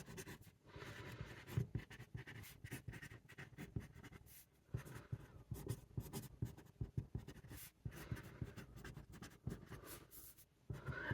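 A Magna Carta Sapphire Grand fountain pen with a broad nib writes on paper up close, making continuous scratchy strokes in quick bursts with brief pauses between words.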